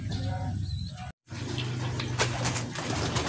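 Soft coos of pigeons at feeding time repeat in a low, steady murmur under a constant hum of background noise, with a brief dropout partway through.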